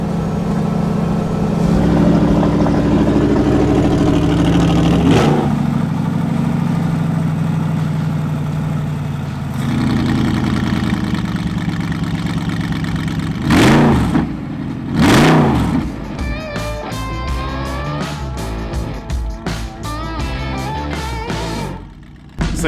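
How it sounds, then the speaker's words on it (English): A car's exhaust is switched to its louder mode, the engine revving in several sharp, near bursts over a steady running drone, with a rapid crackling flutter near the end. "If I press this button, the exhaust will get louder"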